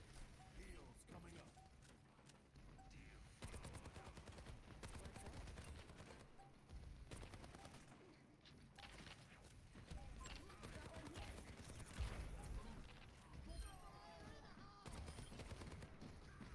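Gunfire in an Overwatch match played as Soldier 76, with bursts of rapid automatic shots and scattered single reports running through the round while players talk over it.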